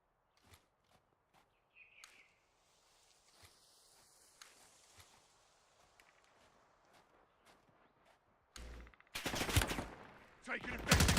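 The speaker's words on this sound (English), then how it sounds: "Taking effective fire." Gunfire in Call of Duty Black Ops 6, with a few distant shots and footsteps at first. Close, loud bursts of automatic fire erupt near the end.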